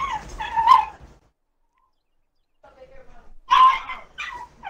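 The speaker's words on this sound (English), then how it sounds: "the dog went crazy" Dog barking in the video game The Division, with excited voices talking over a first burst of barks, a short gap, then another loud cluster of barks near the end.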